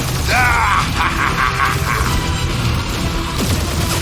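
Flarker enemies force a door open in Guardians of the Galaxy, making a loud, grinding mechanical creak with a rhythmic ratcheting pulse over a dense, continuous rumble of combat noise.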